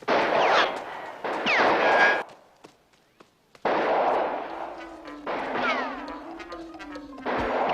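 Snipers fire in the Highlander video game. Loud bursts of gunfire come with a short quiet gap between them and a faint tonal whine beneath the later shots.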